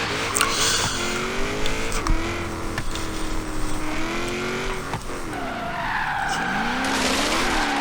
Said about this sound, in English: spins second gear very easily, up into third gear, do a little spin here